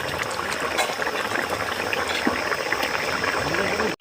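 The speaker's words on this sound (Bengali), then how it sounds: "আমার ঝোলটা ফুটে গেছে" A pan of fish curry made with snakehead (shol) fish boils steadily, giving a dense, continuous bubbling wash that stays loud and even throughout, ending in a brief dropout at the very end.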